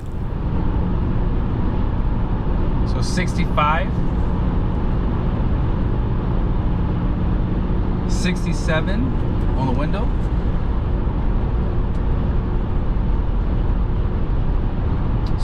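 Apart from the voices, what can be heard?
pickup truck interior cabin noise while driving on road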